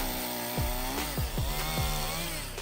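An Enon RP200 Super chainsaw with a 31.8cc, 1.3 kW engine cuts through logs, its steady high whine broken by several recurring dips in pitch as the chain bites into the wood, loud and close throughout with no talking.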